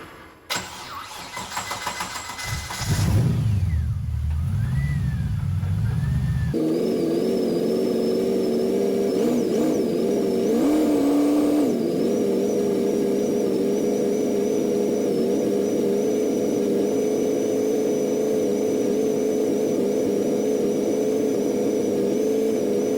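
A Mazda MX5 NC fitted with an LS1 V8 engine cranks for a few seconds, catches and fires, then settles into a steady, humming idle with a brief rev partway through.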